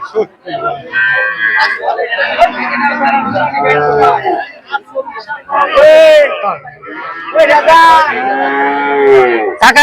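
Cattle moo loudly and close by at a cattle market, several long drawn-out calls, while people talk in the background.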